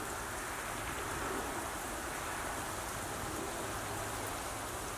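Sleet or small ice pellets fall outdoors on a cold day, making a dense, steady hiss of hard grains striking surfaces. The sound stays even and continuous throughout, with no voices.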